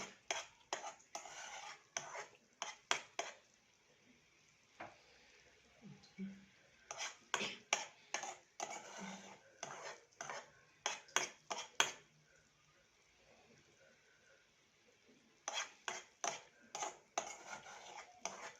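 A utensil stirs sugar caramelizing in a pan, scraping and clinking against the metal in bursts with quiet gaps between them, close and soft, with no voice.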